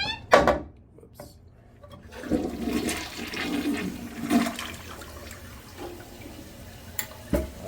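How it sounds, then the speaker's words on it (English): A toilet flushes in a building where the flush is behaving oddly, with a sharp clunk and a rush of swirling water that gurgles and drains for several seconds, then a few knocks and clicks nearby. "That was kind of an odd flush."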